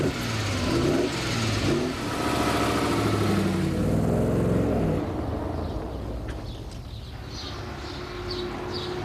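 A 1973 Maserati Ghibli SS with a 5-litre engine revving loudly nearby, rising and falling in pitch through several throttle blips before easing off to a quieter idle.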